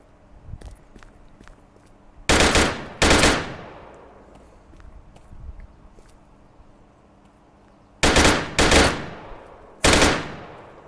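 Gunfire in the VR battle royale game Virtual Battlegrounds: loud, close bursts of automatic fire in two groups, two quick bursts early and three more near the end, over a quiet backdrop of faint footsteps and small game sounds.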